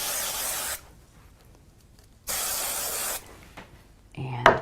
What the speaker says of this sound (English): I'm going to use a little spray glue on it.